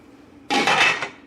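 A metal lid set down on a pot of goat's milk being made into farmer's cheese, a sharp clanging clatter that rings briefly and fades within about a second, close and clear against a quiet kitchen.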